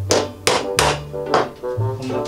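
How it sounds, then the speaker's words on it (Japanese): A nail used as a punch is struck with a hammer to mark a hole in DIY storage material: about five sharp, close taps in an uneven rhythm with short ringing tails and no speech. "90度の釘を代用してですね、ポンチ代わりに傷をつけていきます"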